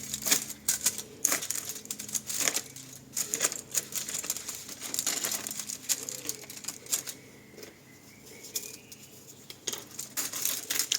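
Crisp biscuits are snapped and trimmed by hand to fill gaps in a layer of a no-bake orange and chocolate biscuit cake, with dense close clicking, crackling and light clatter running almost continuously, no voices.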